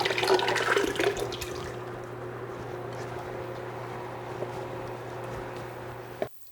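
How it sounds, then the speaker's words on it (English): Two big cans of crushed tomatoes pour into a pot, a thick wet glugging splash that is loudest at the start and then settles into a steady low rush before stopping abruptly. "I'm going to add 2 big cans of crushed tomatoes"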